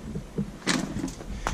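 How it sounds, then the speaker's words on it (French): Shutters in an abandoned slaughterhouse creak in a few short, squeaky bursts with brief gaps between them, fairly close, with no voices. "Les volets qui grincent, les portes qui claquent."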